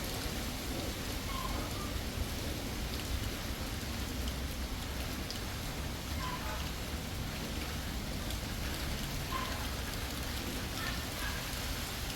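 Light afternoon rain falls steadily outdoors with no thunder: a soft, even patter and hiss across the surroundings, with a few faint distant sounds underneath.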